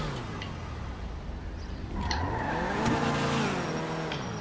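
A Ferrari sports car in GTA 5 revs and accelerates with rising engine pitch and a brief tire squeal, fairly quiet under game ambience.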